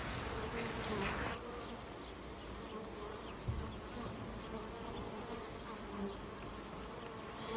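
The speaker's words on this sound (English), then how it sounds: "We have mainly two types of bees, the white and red-tailed bumblebees." White-tailed and red-tailed bumblebees buzz steadily in a garden, a continuous close droning hum that runs unbroken for several seconds, with a brief soft knock partway through and no voices.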